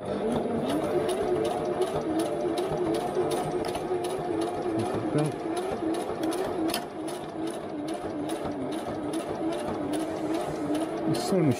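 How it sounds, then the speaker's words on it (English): Household sewing machine stitching through thick webbing straps for hammock tree straps, a steady close mechanical whirring hum with rapid needle ticks running continuously throughout, nearly unbroken. "Machine's just a household one, so really it shouldn't be doing thick webbing straps like this"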